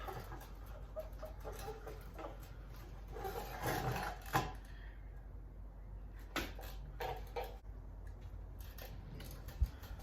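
Wax rubbed onto car paint in swirling hand motions to fix orange peel, soft rasping strokes that rise and fall in irregular bursts, close but fairly faint, with no talking.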